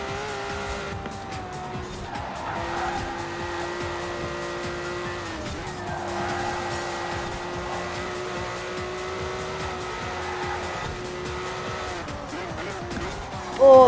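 A Ferrari Testarossa in the racing game Forza Horizon 4 brakes late into a corner, its steady engine drone running under brief tire squeal and skidding, with a sharp jolt at the very end.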